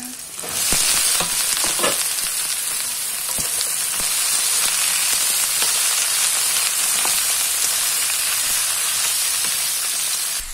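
Sliced bitter gourd (ampalaya) sizzles steadily in a hot frying pan, a constant bright hiss with scattered pops and occasional stirring clatter, close and loud with no talking.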